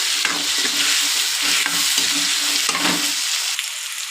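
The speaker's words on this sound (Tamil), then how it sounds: "தாளிச்சு விட்டுட்டு வதக்கணும் அப்போ தான் நல்ல வாசம் வரும்" Onion and tomato sautéing in hot oil for a sardine curry, a loud continuous sizzle with repeated scraping stirs of a spoon against the pan, close and without talk.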